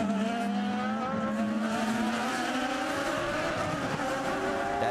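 IndyCar race cars at the 2011 Grand Prix of St. Petersburg street circuit give a continuous loud engine whine that rises steadily in pitch as they accelerate, with no talk.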